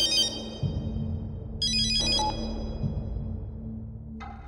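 A mobile phone ringtone chimes in bright, repeating electronic patterns, loud and close, in bursts over a low rumbling background, with no one talking.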